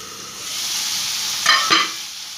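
Chicken pieces for barbecue sandwiches stir-fried in a hot pan: a steady, loud sizzle, with two quick scrapes of stirring about midway.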